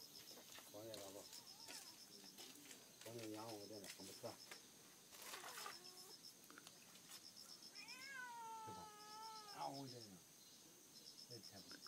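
A cat meows several times in a short sequence of drawn-out, wavering calls, heard fairly close, while a child and an adult talk nearby.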